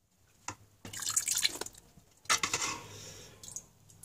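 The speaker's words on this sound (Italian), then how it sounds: "andiamo a mettere la nostra cagliata nelle cestelle" Whey drips and splashes as cheese curd is ladled into wicker rice-steaming baskets, giving irregular bursts of wet pouring with sharp clinks and short trickles, close by and without talk.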